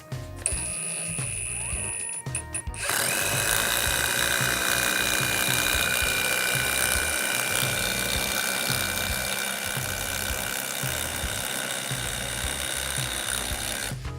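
A Dnipro M DTD-201BC cordless impact driver with a 13 mm hex socket drives a 20 cm screw, a loud continuous rattling hammer with a high whine starting after a brief spin-up and sustained to the end.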